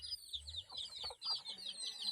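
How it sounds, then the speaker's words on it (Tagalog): Newly hatched chicks peep in quick, high, rhythmic chirps close by, with soft clucking and rustling underneath at a low level. "Dami tayong mga bagong alaga. Mga sisiw."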